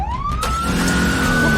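A cartoon police monster truck siren wails loudly and close, one rising tone that swells over an engine rumble and holds steady.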